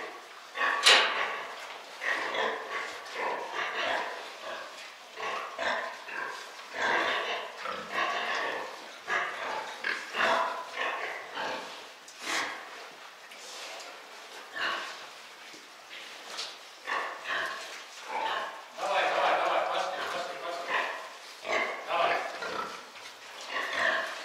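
Sows on a farm grunting and snuffling in short, irregular bursts throughout, fairly close, with people talking intermittently in the background.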